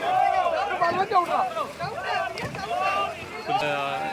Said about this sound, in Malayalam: വള്ളം ചവിട്ടുന്നു.